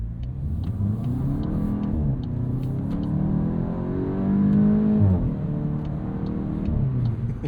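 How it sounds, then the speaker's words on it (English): A 2026 Volkswagen Golf GTI S with a DSG gearbox revs and accelerates nearby, pitch rising and falling through gear changes, with a short burst of exhaust crackle midway. "we still get DSG farts, which they're, you know, quite addictive"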